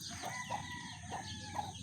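Pet chickens cluck in short, repeated bursts, fairly faint and a little distant, a steady farmyard murmur of fowl with no voices over it.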